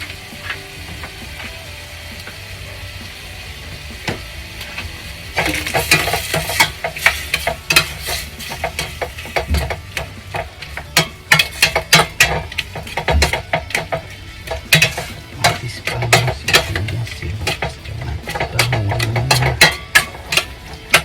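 Tomatoes and onions sauté in a pan for a shrimp dish: a low steady sizzle at first, then many irregular spatula scrapes and metallic clinks against the pan, close and fairly loud, with no talking.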